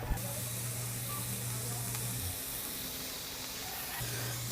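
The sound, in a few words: garlic sizzling as it is added to the pan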